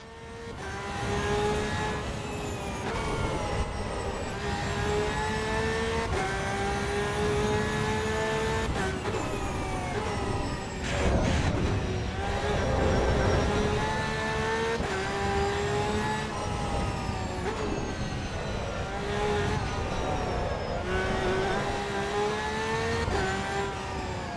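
A race car engine in Assetto Corsa EVO at the Nürburgring roars continuously, revving up and down through repeated gear changes over a sustained lap, loud and unbroken with no talking.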